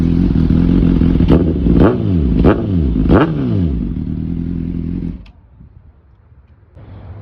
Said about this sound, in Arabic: ده صوت الموتوسيكل، صوته من احلى الاصوات اللي انا بسمعها في الهورنتات.